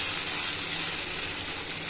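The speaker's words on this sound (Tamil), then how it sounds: "அது சேர்ந்து வதங்கட்டும், நல்லா குழைய வதங்கட்டும்" Onion and tomato sautéing in a pan give a steady, close sizzle with soft stirring scrapes, unbroken and without voices.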